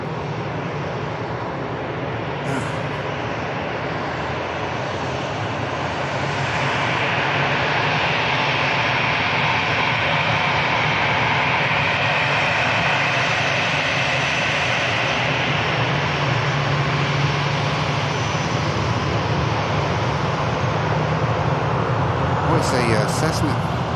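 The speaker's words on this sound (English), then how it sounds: "Oh, the Cessna. Out of Barton." A Cessna light aircraft flies near an airfield, its engine drone holding steadily and loud throughout under continuous wind, while someone talks over it.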